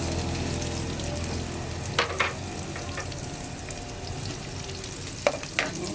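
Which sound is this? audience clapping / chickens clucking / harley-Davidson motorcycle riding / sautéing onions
sautéing onions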